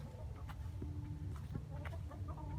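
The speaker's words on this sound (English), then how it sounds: "They have roosters and chickens." Roosters and chickens cluck on a winter day in Riverton, with several short, soft clucks and calls scattered over a steady low background rumble.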